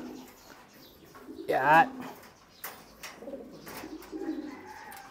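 Pigeons coo nearby, with one loud, clear call and softer coos under someone speaking, plus brief rustling.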